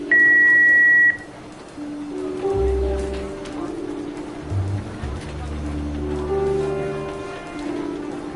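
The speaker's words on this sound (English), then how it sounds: "Please leave a message at the beep" A single steady answering-machine beep sounds loudly for about a second in the Jackbox party game, followed by pattering rain-like noise and music with a person talking underneath.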